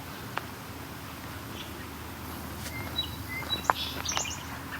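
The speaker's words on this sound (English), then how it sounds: "Very short song, sparrow song." A brief sparrow song of a few quick high chirps, fairly faint and outdoors against a steady low background rumble, with ospreys nearby.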